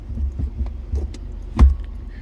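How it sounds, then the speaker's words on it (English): A few dull metallic clunks over a low idling rumble as a 1998 GMC Crew Cab 4x4 dually's transfer case shifts into four-wheel low, the loudest single clank near the end as the gear engages. "there's 4-wheel low, and you can hear it clank."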